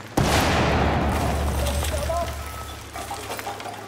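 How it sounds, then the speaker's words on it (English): A grenade blows up in Battlefield 4 with a sharp, loud explosion at the start that rolls into a long rumbling decay, with scattered gunfire and a faint voice behind it. "Eat that grenade!"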